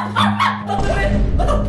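Small dog barking indoors in a house, a few sharp yaps near the start, then a burst of excited barking mixed with a person talking over it.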